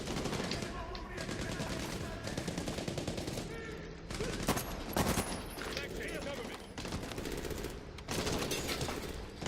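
Sustained gunfire in the Medal of Honor Warfighter video game, rapid machine-gun bursts in a dense, loud stream with short gaps between volleys.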